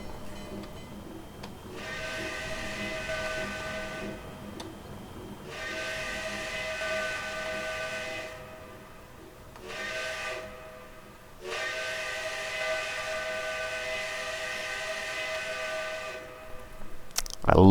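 A steam locomotive whistle on the K&L WK&S 65 in Trainz 2019 sounds in long, loud, sustained blasts, several separated by brief gaps, with a short final toot.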